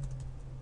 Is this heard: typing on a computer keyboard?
yes